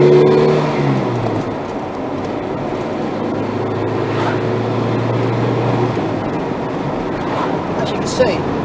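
A classic Austin Allegro accelerates along a main A road, its engine rising in pitch then holding a steady drone with road and wind noise inside the cabin.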